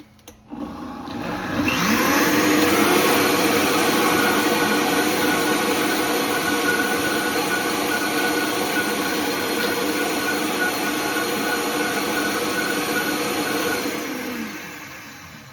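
A Vitamix blender blitzes a hot chocolate drink of cacao, hemp seed and vanilla protein powder, spinning up after a click into a loud, sustained motor whir that holds steady and winds down near the end.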